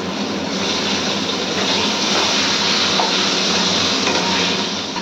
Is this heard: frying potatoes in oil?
yes